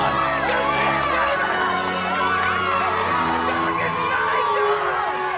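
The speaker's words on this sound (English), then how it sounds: "Will somebody suppress that crowd?" A large crowd cheers and shouts continuously, whoops and excited voices layered into a steady, loud roar of many people close by.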